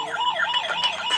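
A red-and-white toy ambulance siren wails in a fast, wavering rise-and-fall tone, loud and steady throughout the short burst, with no voices over it.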